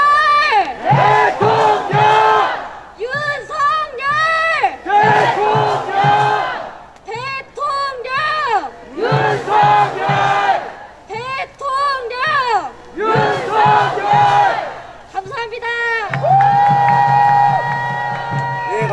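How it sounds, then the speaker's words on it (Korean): A rally crowd at a Gwanghwamun protest rally in Seoul chants slogans in unison, loud rhythmic bursts repeating every couple of seconds, with a sustained shouted call at the end over amplified sound. "구호 조금 외치고 내려가겠습니다"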